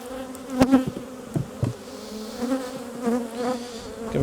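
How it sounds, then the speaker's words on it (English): Honeybees buzzing in an opened hive during requeening, a steady close drone with individual bees whining past the ear, loud passing buzzes standing out against the hum, no voices. "So these bees are filling the box, so that's pretty good."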